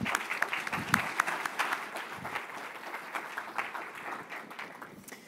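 Sustained applause from a conference audience greeting a CEO and guest as they walk on stage for a fireside chat, dense steady clapping with a few sharper individual claps, filling the room at moderate distance.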